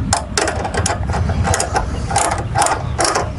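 A ratchet tightens down a ProPride 3P hitch up close, giving loud bursts of rapid metallic clicking in a steady back-and-forth rhythm.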